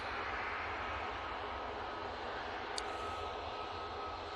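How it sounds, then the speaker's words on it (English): A Jet2 Boeing 737-800 lined up for departure at Manchester Airport gives off a steady, distant jet engine roar, a broad even rumble with no speech. "Jet 2, 737-800, lined up, ready to go."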